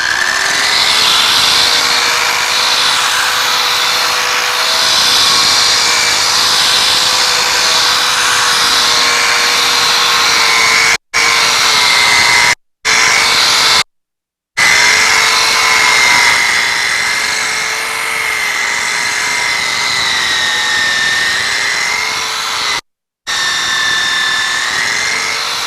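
An Eastwood Contour SCT surface conditioning tool with an expander wheel spins up and strips paint, a sustained high whirring whine with grinding texture that runs loud and close, cut by a few brief silent gaps.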